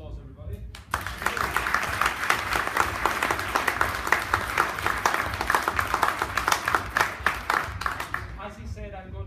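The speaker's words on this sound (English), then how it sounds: "How about giving Clive a round of applause, everybody?" An audience at the Northern Ireland Open Accordion Championships prize giving applauds for Clive, steady crowd clapping of moderate loudness following a brief spoken phrase, lasting several seconds before a voice returns at the end.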